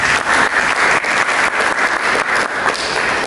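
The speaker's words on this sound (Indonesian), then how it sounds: "Mari kita berikan tepuk tangan untuk Yesus." A church congregation claps during a sermon, producing dense, loud applause with rhythmic pulses that rise and dip through the burst, with no voices heard.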